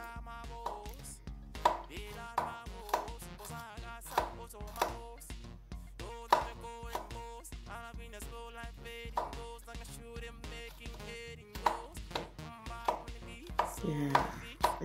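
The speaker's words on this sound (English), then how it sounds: "Also slice it into small pieces." Garlic being chopped into small pieces with a knife on a board, a fast irregular series of crisp, close taps repeating steadily with brief pauses, while light music plays underneath.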